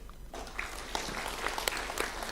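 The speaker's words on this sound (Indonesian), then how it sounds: "Nah, ini boleh tepuk tangan Pak." Applause breaks out from an audience at a political speech event in Indonesia, scattered claps building into a steady round at moderate volume after a quiet start.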